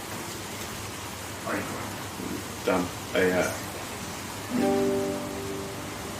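Heavy rain from a storm in Sydney hisses steadily throughout, a dense wash of noise while people talk briefly and a guitar plays in the background.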